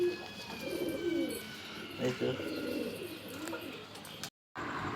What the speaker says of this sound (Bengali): এই যে আমার পায়রা সব ছাড়া আছে, দেখতে পাচ্ছেন